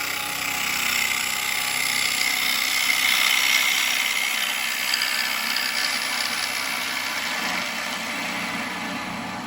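A woodturning chisel cuts wood on a spinning lathe, a continuous close rushing, tearing hiss that holds steady for several seconds and eases slightly toward the end, with no talk.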